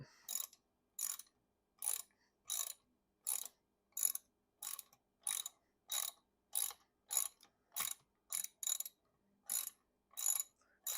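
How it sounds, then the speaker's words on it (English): A hand ratchet works the bolts loose on a Yamaha 9.9 HP four-stroke outboard motor during an impeller replacement, giving a close, crisp series of about eighteen clicking bursts in an even rhythm with no talk. "we're just going to go ahead and start removing these bolts, loosening them up."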